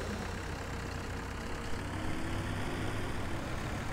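A tractor engine idles steadily in a farming simulation game, a continuous low rumble at moderate level with no pauses and no talk over it.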